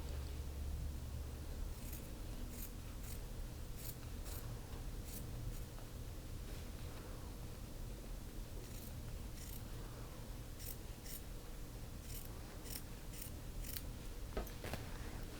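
Scissors make a run of crisp snips while trimming and grading the seam allowance of a shirt cuff, clustered in quick bursts, fairly faint against a quiet room with no speech.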